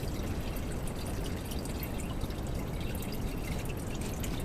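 Liquid running down into a drip catch pan, heard as a steady, continuous wash of splashing and trickling with no pauses.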